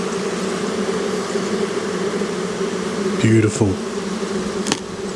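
Honey bees in an opened Australian backyard hive drone in a steady, close buzz, with a person briefly speaking over it and a few wooden knocks from the frames.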